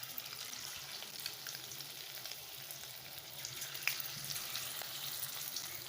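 Pieces of bhetki fish sizzle steadily in hot oil in a pan while being fried for chilli fish. The frying is soft and continuous, with a few faint crackles and no voices.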